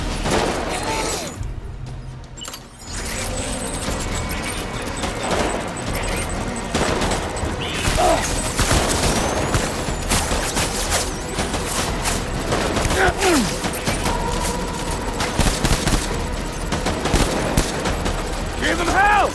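Heavy gunfire from the video game Death Stranding, dense sustained bursts and rattling volleys layered over a loud, busy game soundtrack with shouted voices mixed in throughout.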